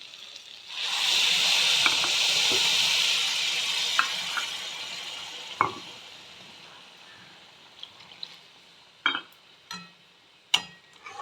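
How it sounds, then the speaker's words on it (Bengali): Water poured into a pan of rice and vegetables frying together bursts into a loud, hissing sizzle that slowly fades, followed by scattered clinks and scrapes of stirring. "2 বাটি জল দেবো এর মধ্যে"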